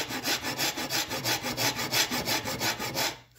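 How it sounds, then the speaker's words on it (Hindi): A Shinto saw rasp files wood in fast, even back-and-forth strokes, about five per second, close and rhythmic, with each stroke a rough scraping rasp and no talking. "फाइन के ऊपर भी ये अच्छी तरीके से जो है ग्राइंड ग्राइंडिंग क्या कहेंगे फाइलिंग कर सकती है"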